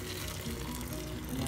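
Broth pours steadily into a casserole pot for a moment, a soft continuous splashing and gushing close by, with no voices.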